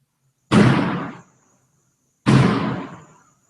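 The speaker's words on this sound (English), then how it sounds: "This is making noise in the background, this fire door thing." A heavy fire door bangs shut twice in a hallway, each a loud, sharp slam followed by a decaying rumble, spaced nearly two seconds apart with silence between.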